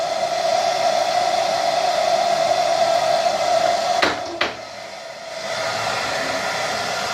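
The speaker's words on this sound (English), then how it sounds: "The air coming out of the dryer itself is 181 degrees." A hair dryer on high heat, low air blows with a steady, loud whooshing roar, briefly cut by a couple of clicks before the airflow settles back to a slightly lower hum.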